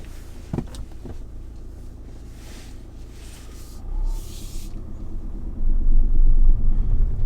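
Car cruising on an ordinary road, a steady low engine and road rumble with tyre noise throughout, a couple of brief knocks near the start and a louder surge of rumble toward the end, no voices.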